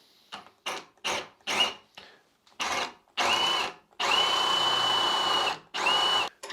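A power drill bores a bolt hole freehand into a wooden table in a series of short whirring bursts, then longer sustained runs, close and fairly loud with no talk.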